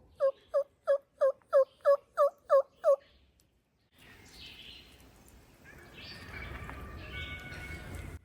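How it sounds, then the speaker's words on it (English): A wild turkey hen yelps in a quick, evenly spaced series of about eight calls, fairly close, at a turkey hunting camp, followed by rustling and soft outdoor background noise. "I swear I just heard a hen."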